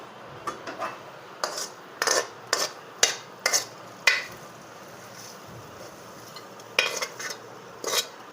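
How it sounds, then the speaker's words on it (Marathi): A sautéed mixture being stirred into fermented uttapam batter in a home kitchen, giving a series of soft scraping and clinking strokes from a spoon against the bowl, irregular and close, with no talking. "हे असं सर्व असं मिक्स करून घ्यायचं आहे चांगलं मिक्स करून घ्यायचं आहे"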